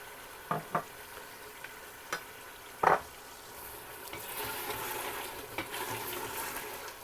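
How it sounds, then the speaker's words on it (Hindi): Quiet stirring and scraping in a pressure cooker pot as meat and tomatoes fry over a soft sizzle, with a few sharp clinks of a utensil against the rim. "अब गोश्त को मैंने तकरीबन 6-7 मिनट भून लिया।"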